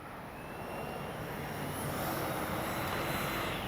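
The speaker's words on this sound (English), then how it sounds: "Great flying little F-16, just small and very narrow gear." A small FMS F-16 64mm electric ducted-fan RC jet flies past with a steady, rising whine and rushing air, loud and continuous throughout.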